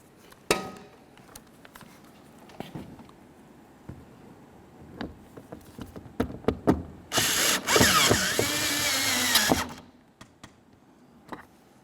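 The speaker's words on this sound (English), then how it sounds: "continue by putting in your Phillips head screw" Phillips head screw being driven into the driver exterior door handle of a 2004-2006 Scion xB, a loud whirring power-driver burst of about two and a half seconds amid scattered clicks and ratcheting taps.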